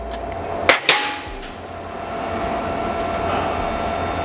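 A single sharp air rifle shot fired at close range, a sudden crack followed quickly by a second metallic impact, then quiet room hum.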